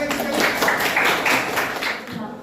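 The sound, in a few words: applause from a classroom audience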